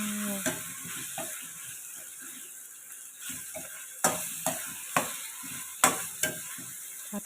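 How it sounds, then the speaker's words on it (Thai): Pork stir-fried with Thai chili paste for nam prik ong sizzles softly in a pan while a utensil scrapes through it in regular strokes about every half second. "อันนี้ใส่หมูก็เป็นผัดกับน้ำพริกตัวยนะเจ้า ผัดรวนให้เข้ากันเลยนะเจ้า"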